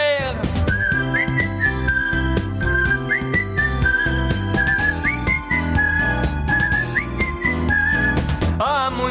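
A melodic whistled tune floats over an upbeat music track, rising and falling continuously as part of the European Portuguese theme song of the cartoon Around the World with Willy Fog, with no talking.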